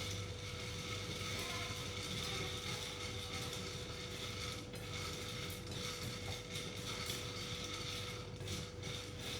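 A whisk churns coffee beans roasting in a stovetop pan, producing a dense, steady rattling and scraping clatter that runs evenly and loud from start to finish, with no talking.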